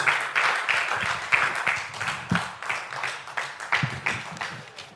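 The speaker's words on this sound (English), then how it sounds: "Can you clap for yourselves, please?" Quiz contestants at a Bible contest clap for themselves in a steady burst of applause that runs throughout, with sharper individual claps standing out near and loud.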